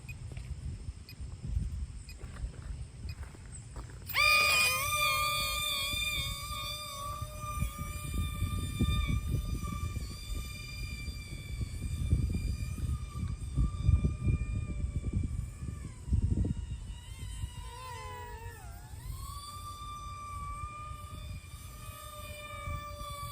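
A Sky Viper Vector RC toy plane, built as an SR-91 Aurora, whines into flight with a sudden steady high-pitched motor tone, rising and falling in pitch as it climbs and banks, heard alone over outdoor wind rumble.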